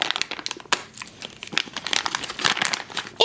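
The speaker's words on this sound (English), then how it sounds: "we're gonna get our handy dandy scissors and snip that open" Scissors snipping open a plastic candy package, close crinkling of the wrapper with a few sharp cuts and rustles in quick succession.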